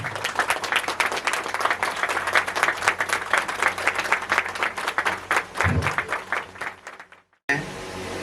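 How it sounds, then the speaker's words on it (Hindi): Loud clapping from an audience at a Jharkhand Patar Munda community award ceremony welcoming honourees, a brisk dense patter lasting about seven seconds before cutting off, followed by a brief burst of noise. "एक बार जोरदार ताली से उनका स्वागत करेंगे"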